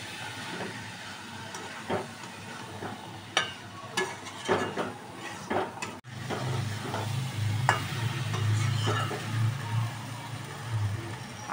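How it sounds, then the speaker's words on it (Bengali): Boiled potatoes, peas and chicken pieces being fried with turmeric and spices for Bengali chicken ghugni: scattered spatula scrapes and knocks against the pan over a low steady rumble that swells in the second half, with no talking. "আলু, মটর, চিকেনের টুকরো দিয়ে মশলা দিয়ে কষানো হয়ে গেল।"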